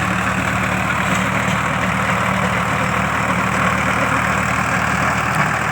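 A Sonalika tractor engine runs steadily at idle, a continuous low rumble with no speech, holding an even loudness throughout.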